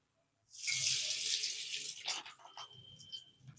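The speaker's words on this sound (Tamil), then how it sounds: "மாவில் கொஞ்சம் எண்ணெய் ஊற்றி பிசைஞ்சிக்கிடலாம்" Hot oil poured into moong dal and urad dal murukku flour dough, making a sudden close hissing, rushing pour that starts after a quiet moment and fades into softer splattering and trickling, with no speech.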